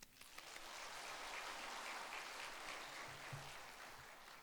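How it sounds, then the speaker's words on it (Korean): A church congregation applauds to welcome a visiting missionary, a steady, fairly faint wash of clapping from a crowd that holds evenly for several seconds. "우리 마음 가운데 있는 사랑의 마음을 담아서 박수로 선교사님을 환영하겠습니다"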